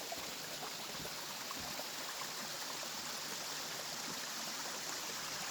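Water pours steadily over a small dam, a constant soft rushing hiss with no breaks, heard from a little distance.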